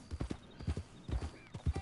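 Horse hooves in the game Red Dead Online, clip-clopping in a steady, close, rhythmic trot of paired hoofbeats across the whole short stretch, with no talking.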